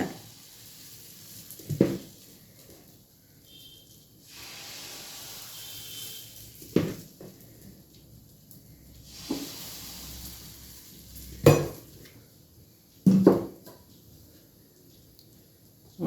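Uthappam batter hits an unoiled dosa griddle, with a few loud clanks of utensil against the pan, each followed by a soft sustained sizzle, close by.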